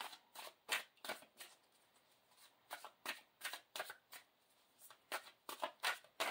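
Tarot cards are shuffled in quick riffling bursts, a steady series of sharp papery rustles and flicks heard up close with no speech.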